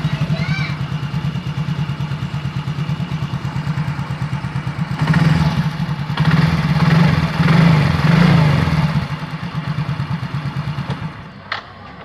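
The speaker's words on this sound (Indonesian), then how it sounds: "Kita coba sekali lagi apakah masih bisa stasioner." A Yamaha Mio J or Soul GT scooter with a high idle that won't drop holds a steady putt-putt idle close by, briefly rising in revs midway before settling, while someone talks over it.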